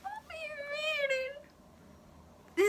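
A pet cat meows several times in quick succession, drawn-out tonal cries close to the microphone, then pauses before one last short, sharp meow at the end.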